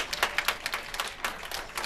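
Audience applause at a public meeting where Occupy Wichita addresses legislators, a run of sharp, quick hand claps repeating across the room at moderate loudness, with no clear speech over it.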